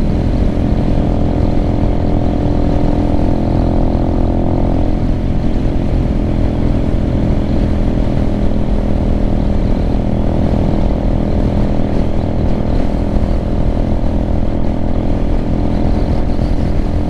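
A Venom Ghost Chopper 250 motorcycle with a slightly opened-up exhaust and larger main jet drones loudly and continuously at close range, holding a steady, throaty pitch as the bike rides along.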